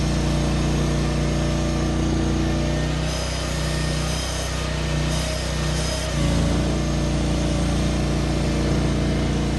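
A mini skid steer's small engine drones steadily nearby on a hill climb traction test, a constant buzzing hum with slight shifts in tone midway and no talking.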